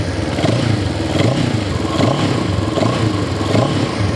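A CFMoto 700CLX motorcycle engine in eco mode revs steadily with rhythmic swells, a loud close rumble running continuously without any talk.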